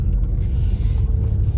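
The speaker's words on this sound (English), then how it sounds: "we are out driving the Mach-E" A 2022 Ford Mustang Mach-E electric car drives and accelerates, heard from inside as a steady low rumble of road and motor noise with no voices.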